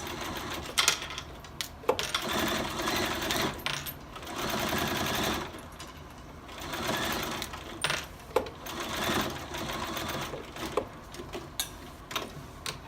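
A sewing machine stitches a folded star quilted coaster with a 1/4 inch seam, fast rattling runs of stitching broken by short pauses, close and clear with no talking.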